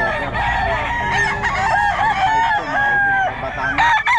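A Lemon Sweater gamefowl rooster crows loudly and close, several drawn-out tonal calls with short clucks between, and faint voices in the background.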